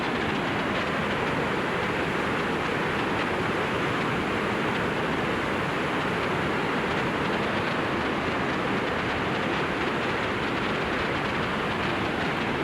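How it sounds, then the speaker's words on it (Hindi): The Bhagirathi River, where it meets the Alaknanda, rushes with a constant broadband roar of fast water that stays loud and steady throughout, with no speech. "तो दोस्तों भागीरथी की छलछलाहट आप सुन रहे होंगे, यह है भागीरथी"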